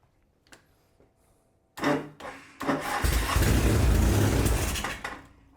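A Norton motorcycle engine, primed with starter fluid, cranks briefly, then catches and fires into a loud, rough, sputtering run that holds for a few seconds before cutting out.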